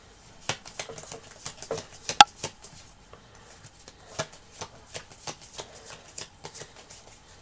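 Magic: The Gathering cards from an Aether Revolt planeswalker deck handled and counted at a table, a steady run of soft close flicks and taps with one sharper snap, no talking.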